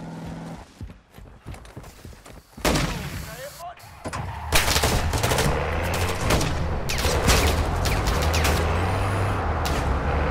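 Gunfire in Call of Duty Warzone DMZ, loud bursts of shots and heavy blasts layered with continuous battle noise that swells and stays dense, with radio-style voices heard over it.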